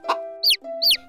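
Cartoon hen clucking in short bursts, a pair of sharp high calls over a sustained tonal backing, close and clear with no talk.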